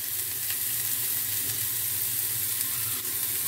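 Curry leaves dropped into hot oil with mustard seeds and onion for alu-patol bhujia, a loud, dense, continuous sizzle and crackle, close up with no talking.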